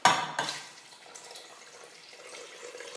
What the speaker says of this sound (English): And then top it off with the broth.